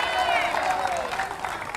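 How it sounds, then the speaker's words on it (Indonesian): A church congregation claps hands in a dense, steady wash of applause through the short moment, with a voice rising over the crowd noise. "Tepuk tangan buat Tuhan"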